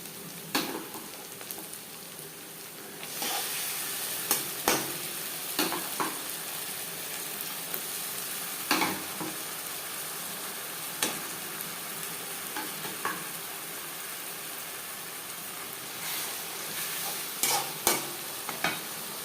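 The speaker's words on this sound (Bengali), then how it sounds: "ভাজা পেঁয়াজের সাথে মাংস বেশ ভালো করে মিক্সড করে দেব।" Marinated chicken fries in a pan with onion and garlic, a constant loud sizzle broken by repeated sharp scrapes and clacks of a spatula as it is stirred.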